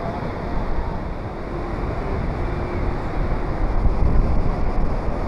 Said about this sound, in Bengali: যেখানে সমুদ্রের ঢেউগুলো আছড়ে পড়ছে